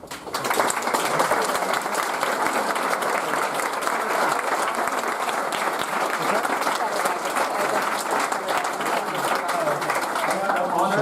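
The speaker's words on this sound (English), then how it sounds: "I kindly request that we give them a round of applause" A crowd at a Democratic Party candidate forum applauds steadily for several seconds, dense continuous clapping at a loud, even level from start to finish.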